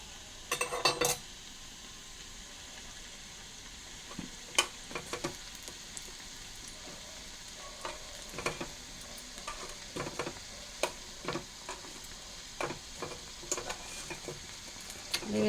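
Something frying in hot oil in a small kadai: a soft, continuous sizzle close by, punctuated by sharp clicks and scrapes of a utensil against the pan.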